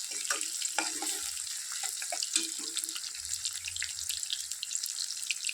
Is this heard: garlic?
yes